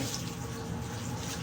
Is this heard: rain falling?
no